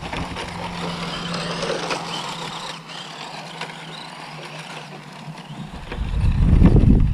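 A Tamiya BT-01 RC car with a torque tune motor drives on dirt, giving a continuous whirring drive noise that swells into a heavier rumble near the end, with no talking.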